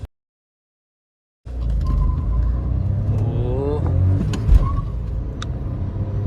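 A Citroen C3 and a Skoda Kushaq launch in a drag race, engines roaring loudly and rising in pitch through the gears after a moment of silence, with a voice talking over it.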